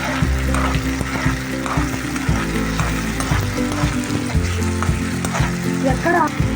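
Tomatoes sizzle loudly in a hot pan while being stirred, giving a busy crackling fry with repeated scraping and clinking of the spoon against the pan, close and continuous.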